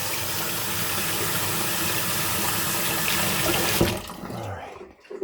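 Tap water runs steadily into a kitchen sink as hands are washed after cooking, a close, continuous splashing rush that cuts off near the end, leaving quieter drips and clatter.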